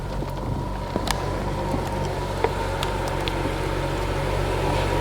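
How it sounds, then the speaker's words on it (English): A BMW 640i engine idles after an intermittent no-start fault is fixed, a steady low rumble and hum broken by a few faint clicks and ticks. "As you can hear, the engine is running."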